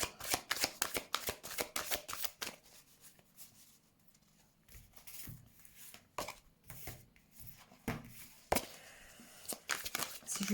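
Tarot cards being shuffled by hand, rapid riffling flutters and soft slaps in bursts with brief pauses between, close and fairly quiet.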